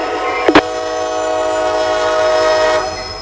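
A freight locomotive leads a yard-to-yard transfer run out of a rail yard, sounding a loud, sustained horn chord for about two seconds after a brief sharp clank, with steady rumble beneath and no talk.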